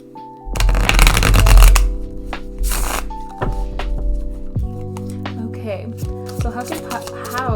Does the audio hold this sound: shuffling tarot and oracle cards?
yes